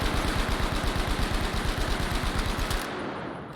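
A rapid string of gunshots fired as a tight grouping, fast evenly spaced reports rolling continuously for nearly three seconds, loud and close, then cutting off.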